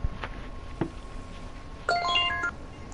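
A phone text message alert plays once: a quick, bright sequence of electronic tones lasting about half a second after a few faint taps.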